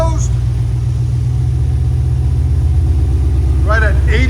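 A 2021 Ford Mustang GT 5.0L V8 idles with its Valvetronic exhaust valves closed, a constant deep, muted rumble close up; someone speaks briefly over it near the end.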